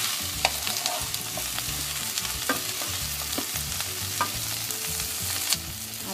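Vegetarian chow mein, with noodles, vegetables, garlic and onions, is mixed and stir-fried in a large frying pan, giving a steady loud sizzle with frequent scraping and clinking strokes of the utensil throughout.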